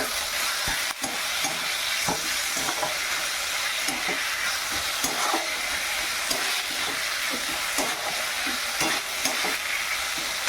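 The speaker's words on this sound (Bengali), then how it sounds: "এভাবে ভালো করে নাড়াচাড়া করে নাড়িয়ে নেব" Leafy greens cook in a pan with a continuous loud hiss and sizzle, while a spoon stirs and scrapes through them in frequent irregular strokes, close and with no talking.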